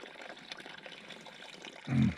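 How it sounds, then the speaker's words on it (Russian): Spring water at an abandoned forest spring in winter, heard as a faint, steady trickle and splash, ending in a brief louder gurgle as water is collected. "Пришли мы на родник. Сейчас водички наберем."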